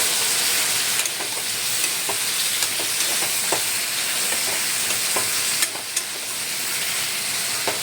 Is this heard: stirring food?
yes